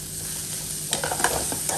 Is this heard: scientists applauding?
no